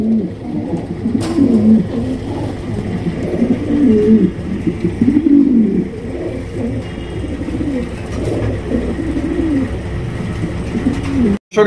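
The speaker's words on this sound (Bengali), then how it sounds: "এখানে রয়েছে একজোড়া বিউটি কবুতর, এটা হচ্ছে আপনার ব্লু বালেস বিউটি কবুতর।" A pair of Blue Bales beauty pigeons coo steadily and close by, their low throaty calls rolling over one another in an unbroken murmur for the whole stretch.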